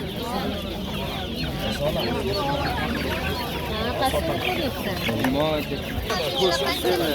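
Chickens cluck and squawk continuously, several birds close together at a busy poultry market in Uzbekistan. People talk underneath the dense, overlapping flock noise.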